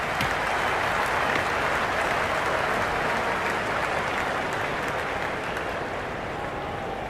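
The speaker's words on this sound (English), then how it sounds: "There's a buzz, a real buzz coming from the stands." A cricket stadium crowd at an India versus Pakistan T20 World Cup match in the video game Cricket 26 applauds in a dense, loud, continuous wash of clapping that fades slightly near the end.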